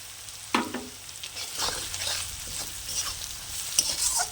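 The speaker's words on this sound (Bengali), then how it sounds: "দেব হলুদ গুঁড়ো দিয়ে ভালো করে কষিয়ে নেব আর দেব অল্প করে চিনি" Spices with turmeric powder and a little sugar sautéing in a pan for tadka, a low sizzle with a few spoon scrapes and knocks as the mixture is stirred.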